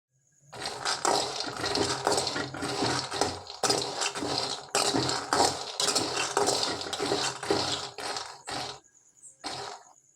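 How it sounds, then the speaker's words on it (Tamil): Peanuts roasting in a pan are stirred in a close, continuous dry rattle and scrape that pauses briefly a few times and thins out toward the end. "இப்போ வேர்க்கடலையை வந்து நான் வறுத்து எடுத்துக்க போகிறேன் ஃப்ரெண்ட்ஸ்"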